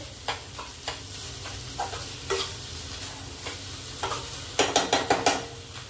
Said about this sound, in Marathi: आता ही भाजी आहे फ्रेंड्स आपण दोन मिनिटं गॅसवर होऊ देऊ